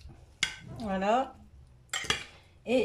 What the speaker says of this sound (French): Et je mélange avec les haricots verts et le riz.